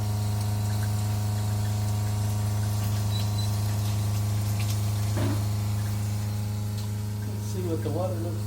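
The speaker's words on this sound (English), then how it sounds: "we will run this water now for 20 minutes" Water runs through a newly installed SimPure T2-600 under-sink reverse osmosis filter, giving a steady pump-like hum with continuous flowing water and a few brief clicks and gurgles.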